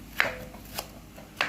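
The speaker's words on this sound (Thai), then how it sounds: "หั่นตะไคร้รอก่อนนะครับผม" A knife chops fresh lemongrass on a board for a spicy beef dish, three sharp separate cuts spaced unevenly over a quiet background, close and crisp with no talking.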